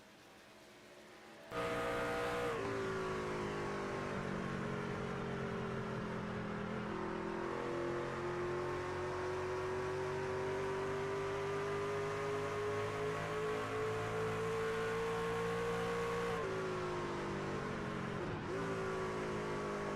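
Race truck engine in iRacing, a loud steady drone that rises and falls in pitch as gears shift, with a clear drop and re-climb near the end.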